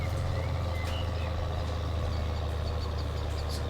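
A tractor engine drones at a steady idle in Farming Simulator 19, with reversing beeps pulsing faintly over the constant low rumble, no voices.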